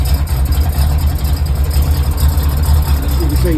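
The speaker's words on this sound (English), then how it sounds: "So yeah, I'm going to let this tick over now." A Pontiac Firebird Trans Am engine ticks over at idle after an oil flush, giving a loud, steady, low rumble that stays close and even throughout.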